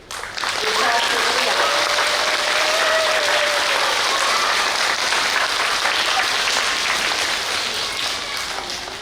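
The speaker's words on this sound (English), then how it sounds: "So let's give Christiana a cheer" A school audience applauds and cheers for a Student of the Month, a dense, continuous roar of clapping with voices mixed in, holding strong for several seconds before easing slightly.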